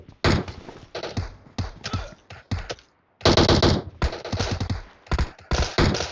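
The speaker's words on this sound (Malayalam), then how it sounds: "നമ്മുടെ ടീമേറ്റ് ആർക്കാണ്ടൊക്കെ വെടിവെക്കുണ്ടല്ലോ" Bursts of rapid automatic gunfire from a teammate in a battle-royale shooter, loud close volleys in several clusters separated by brief pauses, with a soft voice faintly underneath.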